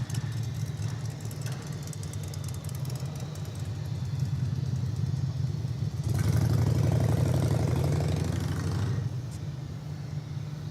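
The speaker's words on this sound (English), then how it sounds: "And cue the motorcycle." A motorcycle engine roars nearby at an airport plane-spotting site, a steady loud drone that swells sharply around the middle as the bike passes closest, then eases back, with no talk over it.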